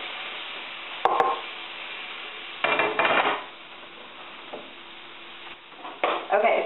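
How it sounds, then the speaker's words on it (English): Capers frying in a very hot pan, with a soft sizzle running throughout and a few louder bursts of popping and clattering against the pan. "When capers hit a really hot pan, they pop open"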